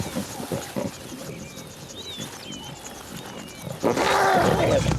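Lions growling while a lioness feeds in the wild, with low rumbling growls and snarls through the clip, swelling into a loud close roar-like growl near the end.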